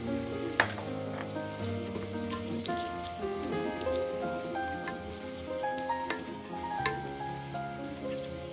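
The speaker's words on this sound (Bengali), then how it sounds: "পেঁয়াজটা একটু ভেজে নেব" Sliced onions fry in a pan with bay leaf, cinnamon, cardamom and cloves, giving a steady crackling sizzle with scattered pops throughout.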